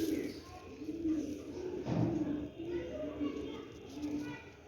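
Ferozepuri pigeons coo softly at close range in several short, rolling calls, with a voice heard faintly in the background.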